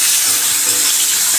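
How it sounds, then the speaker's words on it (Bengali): Sliced onions sizzle in hot oil with bay leaf and whole cumin, a loud, steady hissing fry close to the pan with no talk over it. "পেঁয়াজটা লাল লাল করে ভেজে নেব"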